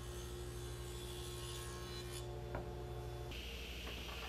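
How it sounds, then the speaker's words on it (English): A dado stack on a table saw cuts grooves in walnut stock, a steady loud whining hum with a broadband cutting roar that shifts partway through as the blade works the wood. "set a dado stack to cut the grooves to accept the panels"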